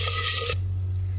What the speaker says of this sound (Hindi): साथ ही इसमें अदरक लहसुन का पेस्ट डाल देंगे। हल्का सा फ्राई करेंगे।